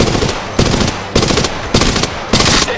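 Gunfire in Apex Legends Mobile comes as five loud, close bursts of rapid automatic fire at roughly even half-second intervals.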